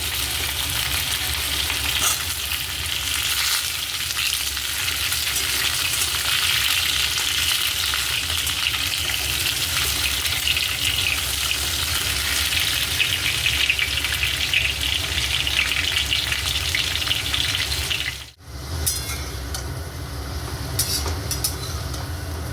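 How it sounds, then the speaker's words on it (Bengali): Diced potatoes fry in hot oil, a loud, steady, dense sizzle heard close up that runs on continuously, broken briefly near the end by a short dip before resuming. "এই আলুগুলো আমি একটু লাল লাল করে ভেজে নেবো"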